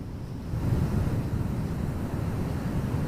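Strong wind roars before a storm in Gujarat, a dense, continuous low rush that gusts up after a brief softer start and stays loud and steady throughout, with no voices.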